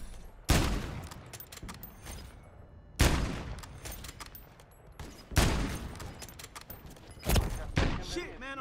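Call of Duty gunfire erupts in loud, close bursts about every two to three seconds, each a sharp crack trailing into rattling echoes and battle noise.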